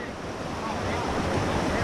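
Water rushes steadily over a concrete overflow weir, a dense, continuous roar of churning flow with some wind noise on the microphone, holding an even level throughout with no pauses.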